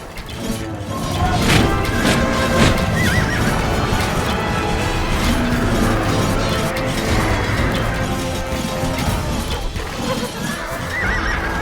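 Loud horse neighs and whinnies over a dense din of hooves, crashes and clatter in an Age of Empires II Definitive Edition battle, like a chaotic battle scene.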